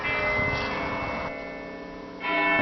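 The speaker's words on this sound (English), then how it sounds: "You can hear the chimes of the cathedral bell" The bell of Lincoln Cathedral chimes during a Christmas market evening, resonant ringing tones hanging in the air with a noisy outdoor crowd murmuring underneath.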